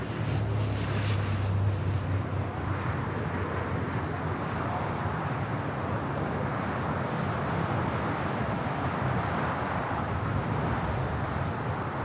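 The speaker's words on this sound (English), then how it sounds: "Air Tahiti Nui Flight 102 originally, now being pushed back." Air Tahiti Nui airliner at LAX during pushback, a steady broad rumble and whine of jet engines with wind noise, constant and fairly loud throughout, with a low tonal hum fading early.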